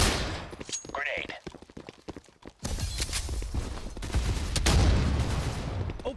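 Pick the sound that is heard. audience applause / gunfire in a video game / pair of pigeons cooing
gunfire in a video game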